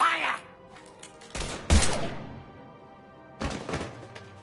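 Mass Effect 3 Legendary Edition combat: a few sharp, heavy gunshot bursts and thuds ring out separately, with game voices and effects in between.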